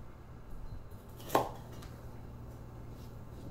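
A knife chops bell peppers into large chunks on a cutting board, one sharp distinct chop against a quiet background, with no speech.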